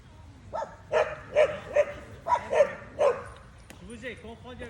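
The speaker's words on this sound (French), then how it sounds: "Ah, le chien." A small dog yaps in a quick burst of about seven sharp barks, close by, with people chatting in French around it.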